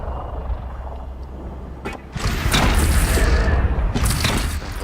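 A weapon fires a rapid burst of booming shots in the video game Horizon Zero Dawn, loud and rumbling with several heavy thuds in quick succession.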